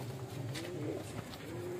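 Pigeons held by a flying-pigeon breeder coo in low, repeated throaty murmurs, steady and close, with no talk over them.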